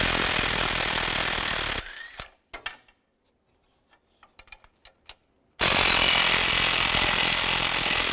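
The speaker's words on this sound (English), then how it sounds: "Then we can take those two bolts out. Use a 15 millimeter socket." A power tool with a 15 mm socket buzzes loudly on engine mount bolts of a 2006-2011 Cadillac DTS, stopping for a few seconds of faint clicks and taps before running again.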